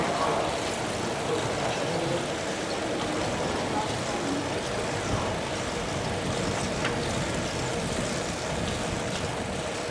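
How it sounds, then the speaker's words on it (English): A car moves along a bike-filled street in Utrecht, its engine and tyre noise a steady, fairly even rumble blended with wind and road hiss for the whole stretch. "There's our first car"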